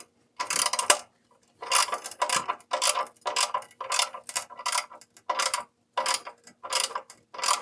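A hand ratchet tightens down a replacement part on a leaking engine oil fitting, giving a string of short, evenly spaced clicking bursts, close and clear with no talk.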